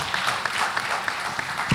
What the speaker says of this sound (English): Please, again, another round of applause.